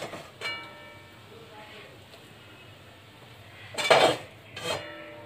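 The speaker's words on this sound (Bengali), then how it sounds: "দেখুন এখন আমি শাকটাকে পরিবেশন করব" Cooked red amaranth greens with beetroot being served onto a dish, with soft scraping under a low background hum and a couple of sharp utensil clinks against the plate near the end.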